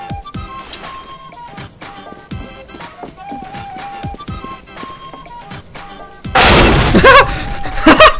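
Molotov fire grenade thrown in the CS GO shooter game, shattering and bursting into a loud whooshing blaze near the end, following a stretch of clicking game sounds, footsteps and faint voices.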